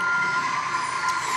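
A truck's reversing beeper in the racing game Need for Speed: Most Wanted sounds as a steady, shrill electronic tone, clear and upfront, with no voices over it.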